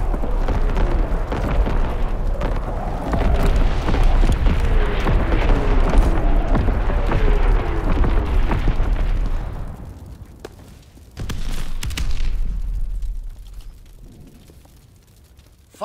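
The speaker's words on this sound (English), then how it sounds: "Incoming enemy artillery." Heavy incoming enemy artillery explosions in Call of Duty: WWII, a loud continuous rumbling barrage of booms for about ten seconds, then a lull, another blast and a fading tail.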